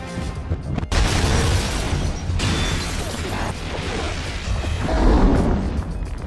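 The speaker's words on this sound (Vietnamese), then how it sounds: "Cô gái đó nổ rồi." A loud bomb explosion from an action film, a continuous heavy roaring boom with debris and rumble throughout, no talk over it.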